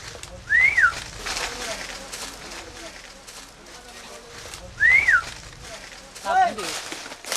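Two loud rising-falling human whistles a few seconds apart, then a shorter fainter one, over background talk and outdoor noise, signals between workers in a banana plantation.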